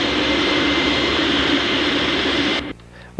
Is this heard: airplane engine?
yes